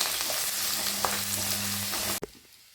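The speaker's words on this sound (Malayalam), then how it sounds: "നമ്മുടെ ഇഞ്ചി വെളുത്തുള്ളിയൊക്കെ നന്നായിട്ട് മൂത്തിട്ടുണ്ട്." Ginger, garlic and green chili sizzle steadily in hot oil in a pan while cooking a Kerala-style fish curry, a continuous close frying hiss with a faint stir, then cut off abruptly near the end.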